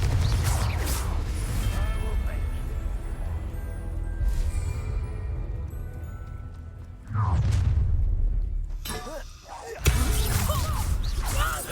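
Confringo fire spell blasts in the game Hogwarts Legacy, heavy low booms with rumbling bursts and whooshes recurring across the stretch, loud and close amid layered game effects.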